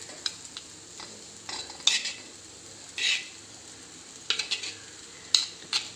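Grated coconut sautéed in a pan with cooked backwater oyster meat for a Kerala thoran, with soft sizzling and sharp intermittent scrapes and clinks of a spoon stirring against the pan.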